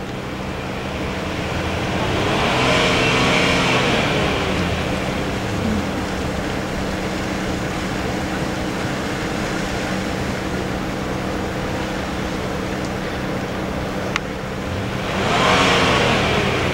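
A car engine revving nearby at night by a lake, two swelling passes of rising and falling engine roar separated by a long steady drone, with a low constant hum underneath.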